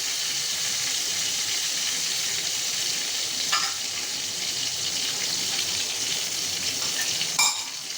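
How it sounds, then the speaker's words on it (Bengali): Fish wrapped in bottle gourd and taro leaves frying in oil over a low flame gives a steady, even sizzle and crackle, close up and continuous, with a couple of faint clinks near the end. "অল্প আঁচ দিয়ে ভাজবেন, তাহলে দেখতে সুন্দর হবে।"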